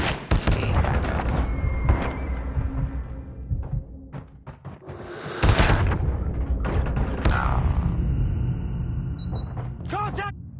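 Shotgun blasts from the HS0405 in the shooter game COD Mobile, loud booming reports scattered through dense in-game combat noise, with mechanical clatter and a radio voice calling out.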